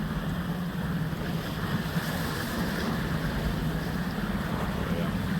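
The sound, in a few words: sailboat moving through choppy sea water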